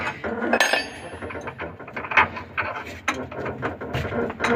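A flat wrench loosens a fitting on a CharlyRobot 2U milling machine, making close metallic clicks and ratcheting scrapes in irregular bursts.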